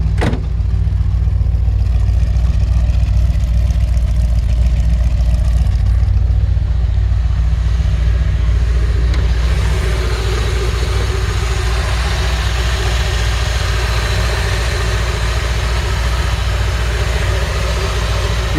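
1968 Chevrolet Corvette with a brand new exhaust idling steadily, a deep, even rumble that stays constant and close throughout, with a brief blip early on and no talking.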